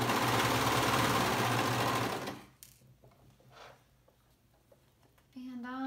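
A sewing machine stitches a neckband onto a pullover, a loud, fast, even whirring rattle that stops after about two seconds, leaving quiet handling sounds before a voice comes in.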